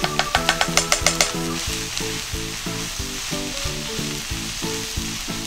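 Flour, four tablespoons of cake flour added to a pan for clam chowder, sizzles as it is stir-fried, with a quick run of sharp utensil taps at the start, then steady close frying with rhythmic scraping and stirring.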